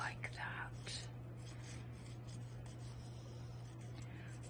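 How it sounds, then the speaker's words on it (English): Light, soft sanding rasps around the edge of a diamond-shaped polymer clay pendant, a faint continuous rubbing with a few brief scratchy strokes near the start. "I'm going to take my opera net and just do a bit of light sanding around the edge like that."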